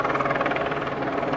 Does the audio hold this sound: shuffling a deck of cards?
no